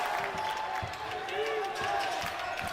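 Crowd noise swelling at a men's college basketball game, Yeshiva Macs hosting Farmingdale State Rams, a steady dense roar of fans getting louder across the whole stretch, with an announcer's voice talking over it.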